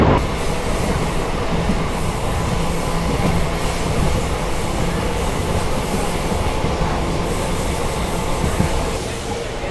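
A train from Bengaluru Airport to the city rolls along steadily, a loud continuous rumble of wheels on rail with rattling carriage noise heard from inside, unbroken throughout.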